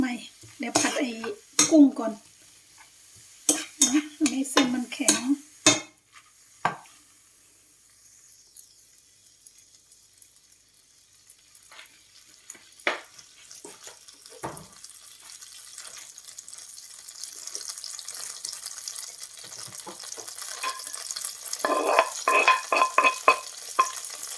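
Metal utensils clatter and scrape against a pan in quick bursts, then a steady sizzle of pad thai stir-frying with shrimp builds and grows louder toward the end.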